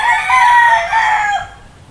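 A golden boy stag rooster with yellow legs and a sleek, healthy build crows once, loud and close, its call holding steady for over a second before trailing off.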